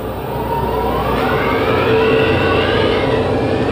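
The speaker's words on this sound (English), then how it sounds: "Engines are up and burning." A dense engine roar from a sound bar demo reel, with rising whining tones sweeping upward over a steady, loud broadband rumble that holds for nearly four seconds.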